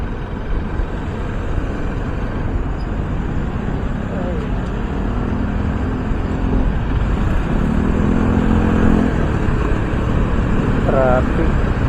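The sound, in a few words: road traffic with cars and motorcycles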